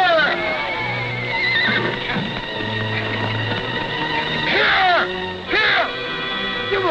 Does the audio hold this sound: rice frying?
no